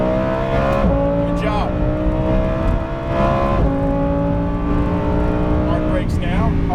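A Lamborghini Huracán Performante engine drones loudly at high revs on the Las Vegas Motor Speedway track, pitch sweeping with shifts and throttle changes, while a driving coach talks over it.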